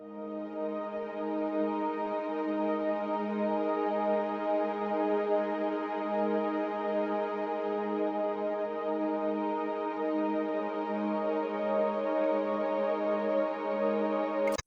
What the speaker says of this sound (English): So that's a pad which also follows the chord progression of the piano.